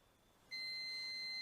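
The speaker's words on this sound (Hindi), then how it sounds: "यहाँ पे जो बीप साउंड आपको सुनाई दे रहा है ना" A digital multimeter emits a continuous high-pitched beep that starts abruptly and holds steady, close and clear, while its probes check a capacitor in a Sony TV power supply board under repair.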